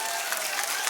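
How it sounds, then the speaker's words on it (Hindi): A brief, dense burst of crowd applause at a poetry gathering, many hands clapping at once throughout. "तालियां हों भूषण त्यागी जी के लिए"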